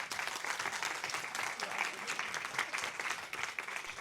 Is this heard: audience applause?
yes